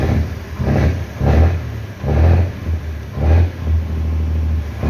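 A Mercedes-Benz 1621 truck diesel with a K27 turbo revs up repeatedly while parked, five loud rising-and-falling bursts over a steady rumbling idle, close to the engine.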